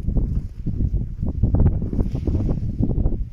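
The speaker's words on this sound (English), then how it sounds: "please don't hurt my tent, wind" Strong, gusting wind batters a tent at a wild camp during 35 mph winds, a loud, continuous low roar with flapping surges and no voices.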